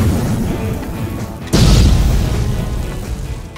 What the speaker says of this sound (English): Who doesn't love a good old explosion?